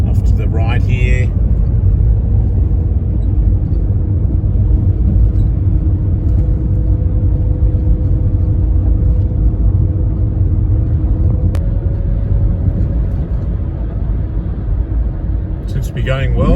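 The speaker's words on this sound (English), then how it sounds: "Seems to be going well, the New Yorker, cruising along nicely." A 1971 Chrysler New Yorker cruises along a country road, its engine and road rumble forming a steady, loud low drone, while someone talks over it from inside the car.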